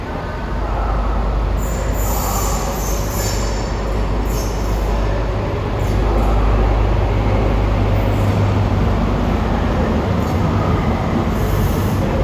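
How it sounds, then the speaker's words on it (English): An Intercity 125 high-speed diesel train arrives at a station platform, rumbling loudly and steadily with engine roar and occasional high metallic squeals and pneumatic hisses over the noise. "That hiss of the pneumatic systems, the roar of the engine at either end"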